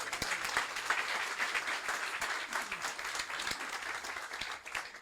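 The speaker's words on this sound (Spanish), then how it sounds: "¿Cuántos aplauden al Señor?" Church congregation clapping for the Lord during a service, a moderate, steady applause with some sharper individual claps standing out, at medium distance.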